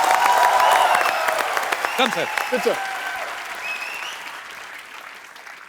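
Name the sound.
studio audience applause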